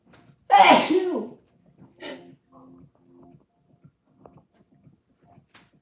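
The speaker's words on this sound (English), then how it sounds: "I'm going to sneeze, I can tell." One loud, close sneeze, followed by quieter sniffs and small mouth sounds in an otherwise quiet room.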